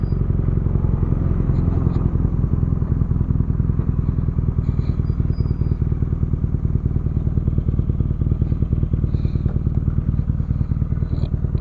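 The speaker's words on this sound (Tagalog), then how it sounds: "the BMW R9T. So meron itong 1170cc engine, boxer type, air and oil cooled, fuel injected, 4-stroke, 8 valves" A BMW R nineT motorcycle with a 1170cc air and oil cooled, fuel injected four-stroke boxer twin runs steadily throughout, a loud, close, continuous engine rumble with a faint rattle and no pauses.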